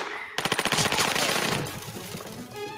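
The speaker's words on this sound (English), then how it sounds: "Came out with a machine gun." Machine gun fire in a Captain America film, a sustained rapid burst of loud automatic shots that starts abruptly and rolls on into a dense, reverberant clatter of gunfire and debris.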